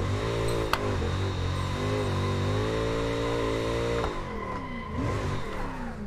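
A GT3 race car in Assetto Corsa revs steadily, its engine pitch climbing and holding high, then dropping briefly after a gear change and rising again. The sound is loud and continuous, with no voices.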